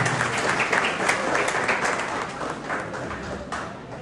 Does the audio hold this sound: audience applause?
yes